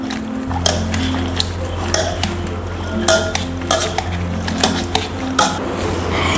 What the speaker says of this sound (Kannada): ಬೇಯ್ತಿನ ಬಟಾಣಿನ ಒಂಜಿ ಬಾಜನಕ ಪಾಡ್ದು ಸ್ಮ್ಯಾಶ್ ಮಲ್ಪೋಡು